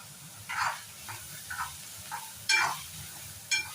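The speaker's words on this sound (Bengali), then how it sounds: "পেঁয়াজটা খুব ভালো করে ভাজা হবে।" Onions fry in a pan with salt while being cooked for a Bombay duck dish. A steady soft sizzle runs underneath, broken by several sharp bursts of stirring and scraping at irregular intervals.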